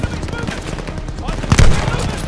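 Automatic gunfire from a tower-mounted machine gun in Call of Duty: Vanguard's wartime campaign, a dense rattling bed of shots with a louder burst near the end, under shouted talk.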